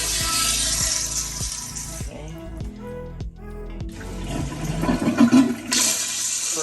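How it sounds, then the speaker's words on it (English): A Tecma toilet in the bathroom of a 2020 Forest River Georgetown 7 Series GT7 RV gives a small flush, a loud whoosh of water with a short gap partway through, heard over background music. "Controls small or large flush,"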